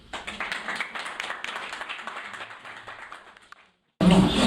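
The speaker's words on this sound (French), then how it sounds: "C'est moi qui vous applaudis." Scattered clapping from a gathering at a talk on fighting violence against women, a run of distinct hand claps that thins out and fades into silence before a loud burst of sound cuts in at the end.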